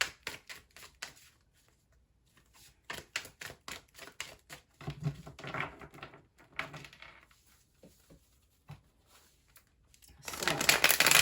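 Tarot cards being shuffled by hand in quick riffling bursts with crisp clicks and pauses, close and fairly quiet, ending in a louder rustling flurry.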